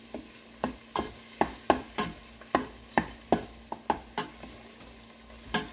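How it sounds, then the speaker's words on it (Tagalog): Ginger and tomatoes sautéing in a pan for Filipino mung bean stew, with a steady low sizzle under about a dozen sharp scraping stirs of a utensil against the pan at an uneven rhythm, close by and with no talking. "And then we saute ginger as well."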